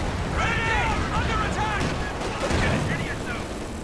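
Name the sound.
gunfire in Company of Heroes 2 video game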